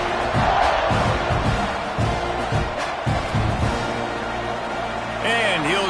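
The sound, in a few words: football stadium crowd cheering after touchdown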